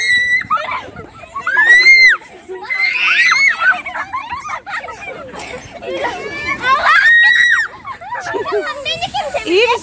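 Children shrieking on an amusement ride: repeated high, rising screams in bursts, close and loud, with excited chatter and babble between the shrieks.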